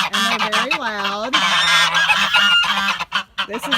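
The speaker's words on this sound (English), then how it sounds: "These are my geese. They're Sebastopol geese. And they're very loud." Sebastopol geese honk loudly at close range in a run of harsh, overlapping calls, some rising and falling, with a brief pause before a few more honks.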